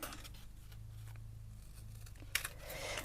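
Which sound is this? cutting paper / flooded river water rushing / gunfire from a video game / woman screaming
cutting paper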